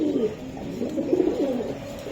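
Pigeons, a pair of active Giribaj high-flyer birds, give soft, low cooing calls that run continuously and close by, with no talk over them.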